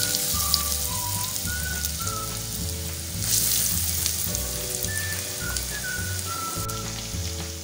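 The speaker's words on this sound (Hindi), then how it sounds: "तो चलिए अब फ्राई करते हैं इन्हें" Coated chicken sticks fry in medium-hot oil, a dense crackling sizzle holding steady throughout with a brief louder surge midway, alone and close, under light background music.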